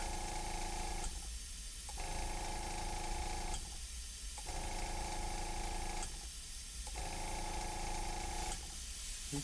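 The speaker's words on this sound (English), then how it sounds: "clean my airbrush" An airbrush being cleaned sprays in repeated bursts roughly every two and a half seconds, each a steady, close hiss separated by short breaks, with no talking.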